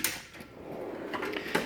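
A drawer slides open on a Snap-on KRL1022 toolbox, a short metallic rolling rattle with a soft clunk at each end, close and fairly quiet, no talking.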